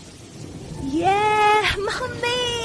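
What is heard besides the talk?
rain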